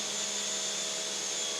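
Two Craftsman 1700 pressure washers run together through a 6.5 nozzle, making a steady, even motor whine with a continuous high-pitched hiss, constant and close, with no voices.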